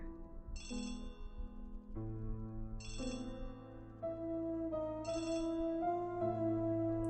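A telephone rings repeatedly in a murder-mystery adventure game, each bright electronic ring burst recurring about every two seconds over a steady musical backdrop.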